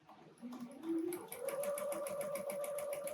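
A sewing machine stitches a snowman appliqué, its needle hammering in a fast, even rhythm that rises in pitch as it speeds up and runs steadily close by, with no talking.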